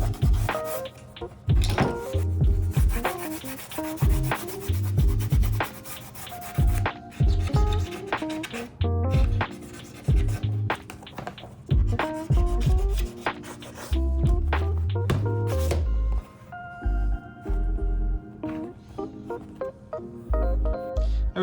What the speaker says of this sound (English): gonna sand these edges a little bit. I think this is 1000 grit,